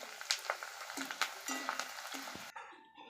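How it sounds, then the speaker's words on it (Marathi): Corn chivda frying in hot oil, a crackling sizzle with repeated sharp stirring knocks for about two and a half seconds before it drops away to faint residual crackle. "मक्याचा चिवडा देखील याप्रमाणे तळून घ्यायचा आहे"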